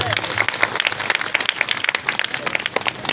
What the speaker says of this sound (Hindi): चलिए तालियां बजा दीजिए एक बार